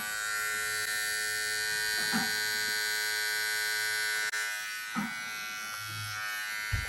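A VGR V-192 cordless hair clipper, a replica of a GTX model, running steadily with a continuous close electric buzz and whine, with a few faint handling bumps and no talking.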